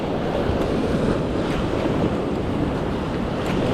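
Strong sea surf and heavy currents along a beach, a continuous loud rushing roar of breaking waves with wind buffeting the microphone and no talk.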